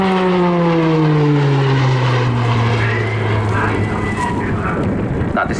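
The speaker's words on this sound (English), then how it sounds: "That distinct noise you'll hear throughout the display is the uprated Garrett TPE turboprop engine fitted to the RF Tucano" An RAF Tucano T1 trainer with an uprated Garrett TPE turboprop engine at the 2019 Southport airshow, a loud steady propeller drone sliding down in pitch as it passes, with a public-address voice talking over it.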